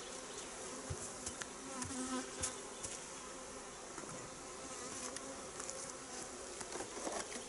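Honeybees from two different hives, gathered into a new artificial swarm in spring, hum in a dense, steady buzz close by, with scattered individual bees passing nearer and louder.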